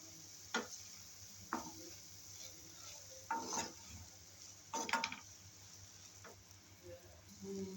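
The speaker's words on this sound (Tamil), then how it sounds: "இப்போ இதை நல்லா மிக்ஸ் பண்ணி விட்டுருங்க." Paneer dosa stuffing being mixed in a pan: a faint low sizzle with a handful of brief spoon scrapes and clinks at irregular intervals, close by, alone without talk.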